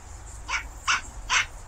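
A pug barks three times in an indoor setting, short evenly spaced yips of moderate loudness standing alone with no talk over them.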